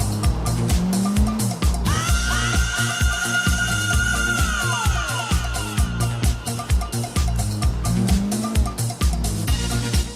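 A rear-wheel-drive Futo spins through a reverse 180 in GTA IV, its tires letting out a long, loud wavering squeal over a steady engine drone and busy in-game background sound, with a shorter chirp near the start and another near the end.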